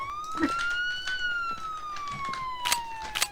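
A wailing police siren in a Minecraft game sweeps slowly up and down in pitch, accompanied by scattered clatter and brief sharp noises.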